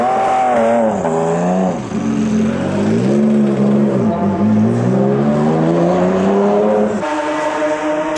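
A Porsche race car engine at a Le Mans pit stop drones loudly and close, its pitch rising and falling through several throttle blips before settling into a steadier note near the end.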